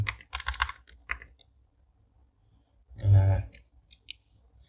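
Someone types Objective-C code on a computer keyboard in quick bursts of crisp clicking keystrokes, with short pauses between them and a louder cluster of presses near the end.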